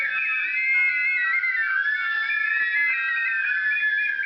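Handmade clay pottery whistles blown by a group of children in a pottery class: many shrill, warbling tones overlapping at once in a continuous loud chorus with no pauses.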